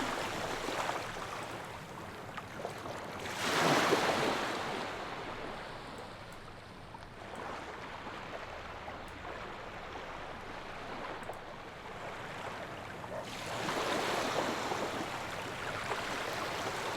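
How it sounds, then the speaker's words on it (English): Looping sea wave ambience for an outdoor scene in a game audio mix, a steady wash of surf with swells rising around four and fourteen seconds, no voices. "let's play the seagulls or the sea loop"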